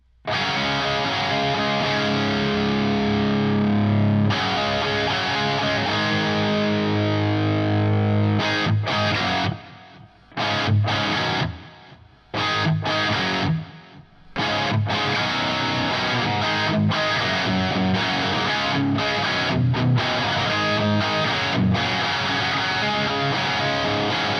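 Loud distorted electric guitar playing chords and riffs, recorded through a Shure SM57 microphone, with a few abrupt pauses and stabs partway through, no voices.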